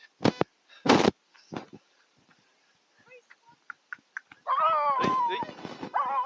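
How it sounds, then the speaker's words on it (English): Dogs bark at a passing runner on an outdoor route in a few sharp bursts, then a louder stretch of yelping and whining barks near the end, with quiet gaps between. "I'm used to getting chased by dogs"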